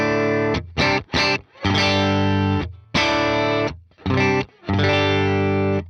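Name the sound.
electric guitar via BluGuitar Amp1 into Quad Cortex cab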